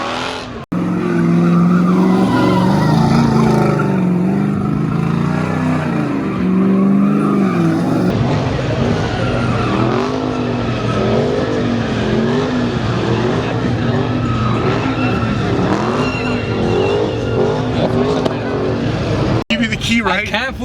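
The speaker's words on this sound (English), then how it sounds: "Cue the clip of Bethel doing one entire donuts backwards." An LS-swapped 1970 Chevy Nova spins backwards donuts in a donut pit, its engine roaring loud and steady while tires squeal and skid with a wavering pitch for about twenty seconds, and a voice speaks over it.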